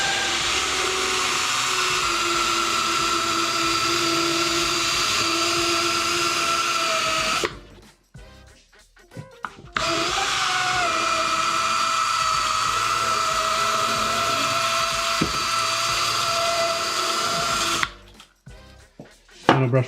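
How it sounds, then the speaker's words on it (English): An electric drill spins a rotary brush across a ski base at home, a loud steady whirring drone with scraping brush texture, stopping twice for a couple of seconds of near quiet before starting again. "So after you use an electric drill with our rotary brushes to get that job done."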